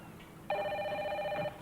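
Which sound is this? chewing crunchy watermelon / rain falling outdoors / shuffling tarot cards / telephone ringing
telephone ringing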